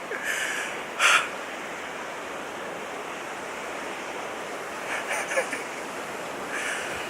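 Surf rushes continuously against the rocky west coast of Sao Miguel island in the Azores, a steady wash of water with a few brief louder splashes and some wind noise mixed in.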